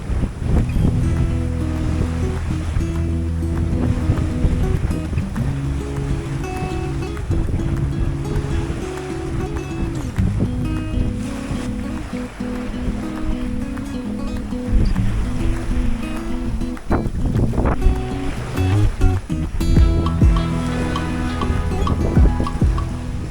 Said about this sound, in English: So it seems I'm sailing